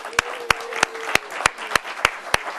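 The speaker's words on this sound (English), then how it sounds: "let's give him a round of applause" An audience claps at an award-style event, with sharp, evenly spaced hand claps standing out over a softer spread of applause and a faint voice underneath.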